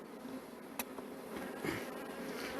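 Honeybees buzz around an open beehive as a steady, close drone with several overlapping wingbeat tones. A few faint clicks from handling the frames come through, and no one talks.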